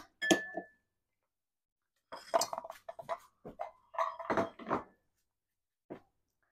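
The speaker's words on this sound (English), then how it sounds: "Now it's time for me to mix all the ingredients." Chicken macaroni salad ingredients being stirred together in a bowl, a utensil knocking and clinking against the sides in quick irregular clusters with quiet pauses between.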